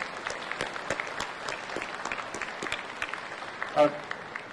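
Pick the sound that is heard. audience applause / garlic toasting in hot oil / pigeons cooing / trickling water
audience applause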